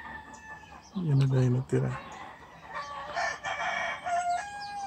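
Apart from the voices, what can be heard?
roosters crowing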